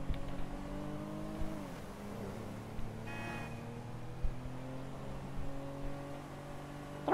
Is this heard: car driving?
yes